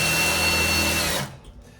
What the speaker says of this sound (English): I'm gonna keep drilling